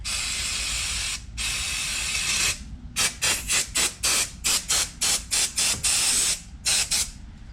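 Brake cleaner sprays onto a chainsaw bar being cleaned of wood debris, first as long continuous hisses, then as a rapid series of short, close, regular bursts.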